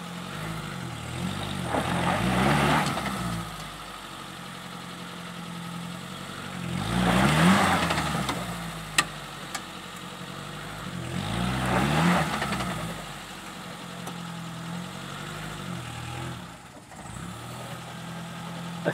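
A 4WD's engine idles low and rough, swelling into three loud revs that sag back down, the motor nearly stalling as it struggles over a small dirt mound; no one speaks.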